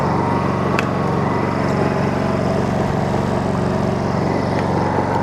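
A Honda EU2200i inverter generator runs at a steady idle, producing a continuous close, even engine hum with a faint mechanical drone and no change in pitch.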